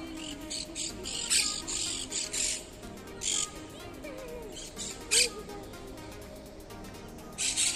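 Morning birdsong in a park among green trees: scattered chirps and short bright calls come and go at moderate distance over a soft, quiet outdoor background.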